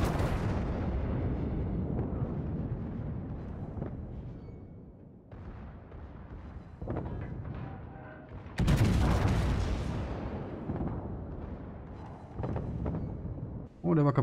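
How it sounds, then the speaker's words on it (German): Naval gunfire from the battleship Bismarck in the World of Warships video game, with heavy booming salvos and rumbling blasts that rise and fall, one sharp loud burst midway, while someone talks over the action. "Ah, jetzt schießt er doch auf mich."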